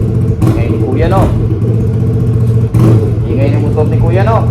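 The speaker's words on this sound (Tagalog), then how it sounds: "Ingay ni motor ni Kuya, no?" A motorcycle engine idles and revs in short surges close by, its rough mid-pitched drone rising and falling twice over the span.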